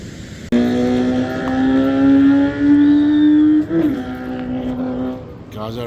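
Motorbike engines drone loudly nearby beside a misty fishing lake, a sustained buzzing tone that rises and shifts in pitch as the bikes race up and down, ending in a sudden change.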